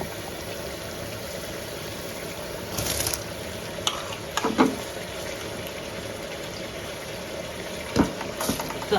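Soaked rice goes into a pot of pulao with tomato pieces, curd and mint leaves and is stirred. The result is a quiet, wet rustling with a few sharp clinks and scrapes of a spoon against the pot, heard at a low level.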